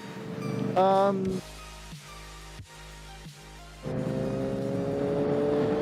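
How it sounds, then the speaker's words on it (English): A Yamaha MT-07 motorcycle with a loud aftermarket Akrapovič undertail exhaust idles with a deep rumble, then blips sharply to a loud, rasping rev before settling back into a steady, throaty drone. "It is so unbelievably noisy and so much fun, this little bike here."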